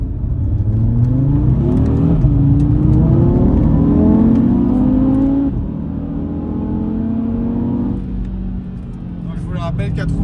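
An Audi TT RS MK3 with four-wheel drive accelerating hard, its engine rising in pitch through several gear changes, loud and close from inside the car, with someone speaking over it.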